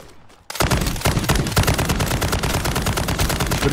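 Rapid gunfire in Call of Duty MW3 Zombies mode, a dense, loud stream of shots bursting in after a brief quiet moment and continuing without pause.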